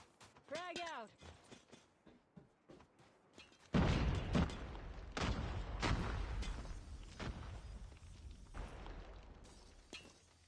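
A frag grenade goes off in Call of Duty Mobile with a sudden loud burst, followed by several seconds of crackling, rumbling debris and scattered gunfire, after a brief whistling chirp at the start.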